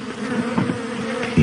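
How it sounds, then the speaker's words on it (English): Bees buzzing around more than a hundred beehives, a steady close drone of many insects holding for about a second and a half, with a louder buzz swelling in near the end. "now he had over 100 hives of bees"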